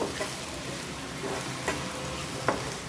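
Chili powder mixed with a little water fries in oil for a brinjal curry, giving a steady sizzle with occasional scraping stirs from a spoon in the pan. No one speaks.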